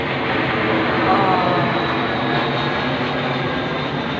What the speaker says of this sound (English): There comes a military plane acknowledging it over my head again